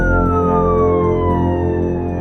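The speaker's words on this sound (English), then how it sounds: "The ground ambulance has arrived to take Brendan to hospital." A ground ambulance siren wails loud and continuous, its tone sliding steadily downward as it arrives at a rural Yorkshire Dales rescue scene, with a low engine rumble beneath.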